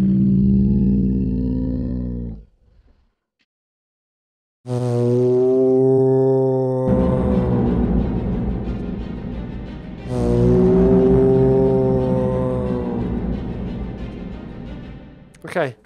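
A synth signature sound run through a pitch shifter plays as loud sustained buzzy tones with sliding pitch, broken by a short silence and then returning in two long swelling phrases, no one speaking over it.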